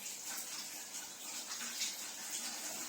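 Running tap water hisses steadily in a kitchen while hands are washed under the flow, soft and continuous for a few seconds with faint splashing and no talk.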